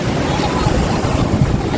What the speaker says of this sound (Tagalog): Lakas po talaga na hangin.